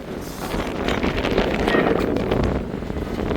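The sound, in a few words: strong wind blowing outdoors in Miami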